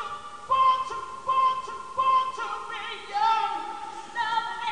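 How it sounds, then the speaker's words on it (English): Pitch-lowered audio sample on a 1997 digital recording system, a tonal musical phrase with held notes and rhythmic swells about every second, steady and clear with no talking. "or we can lower the pitch"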